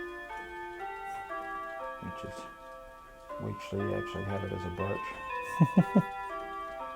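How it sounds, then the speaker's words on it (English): Mantel clock playing the Whittington chimes, a run of clear sustained bell-like tones descending through the melody, with ticking underneath and a person talking over the start. "Now that clock that's chiming is actually the Whittington chimes"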